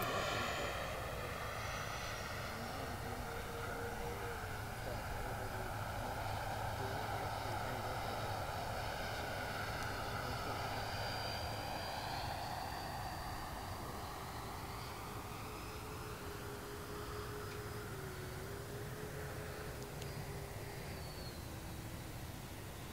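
Freewing F-14 Tomcat twin 64mm EDF RC jet flying in to land, a steady loud ducted-fan whine and rushing roar held throughout with slowly shifting pitch, no talking.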